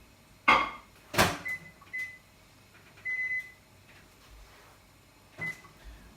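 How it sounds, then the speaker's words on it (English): A microwave oven heating protein pancake batter hums faintly in a kitchen while its door clunks and several short electronic beeps sound as buttons are pressed. "I'm going to put this in the microwave for around about a minute and a half."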